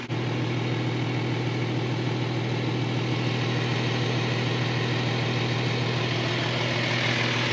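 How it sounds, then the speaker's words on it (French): A steady mechanical hum of an Audi Q7 3.0 TDI's air suspension compressor running continuously, droning evenly with a low tonal whine throughout, no voices. "On entend le compresseur qui se met en route."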